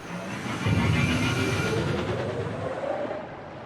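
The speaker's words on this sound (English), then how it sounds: "Alright, ignite engines, let's go." Spaceship engines ignite for takeoff in the Frontier Pilot Simulator video game, a loud, steady broadband roar with a slowly rising whine that swells after a moment and holds through the clip, with no talking.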